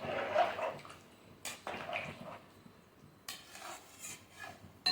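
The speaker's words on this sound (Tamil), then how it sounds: "கறி உடையாத அளவுக்கு மெதுவாக நல்லா பெரட்டி விட்டுக்கலாங்க" A pot of chicken biryani curry is stirred gently, with soft scraping and clinking of a utensil against the pot in a few brief bursts separated by quiet pauses.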